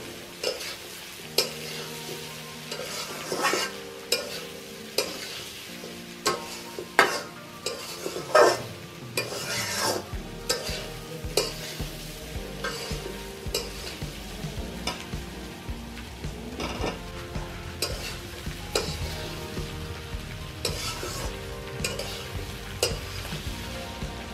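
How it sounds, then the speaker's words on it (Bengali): Green chillies and tomato are stirred into hot oil in a pan, the spatula scraping and clinking repeatedly over a constant sizzle of frying, close and steady throughout. "ভালোভাবে মিশিয়ে নেব।"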